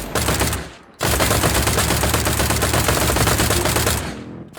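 Enemy Gunners fire in the steampunk shooter INDUSTRIA: a loud, dense burst of rapid automatic gunfire with a brief gap, then a sustained roar of shots that tails off.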